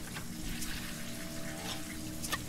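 Steady stream of shower water running in the survival game Sheltered, a soft continuous hiss and splash at low level, heard alone without talk.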